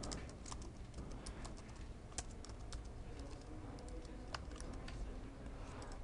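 Continuous typing on a computer keyboard, with quick irregular key clicks and an occasional louder keystroke, close and fairly quiet over a soft background hiss.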